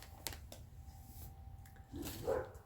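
A couple of faint, distant dog barks over a low background hum, short and muffled.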